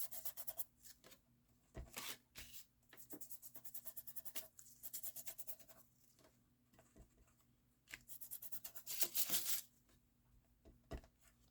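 Wax being rubbed by hand onto a tea bag or tissue paper gives faint, dry, scratchy strokes in short irregular bursts, with quiet pauses between them and no voices.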